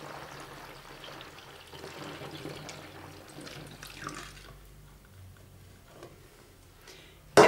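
Homemade laundry detergent made with baking soda and black soap trickles and pours into a container, a soft, uneven liquid gurgle that fades midway, followed by a sharp knock at the end.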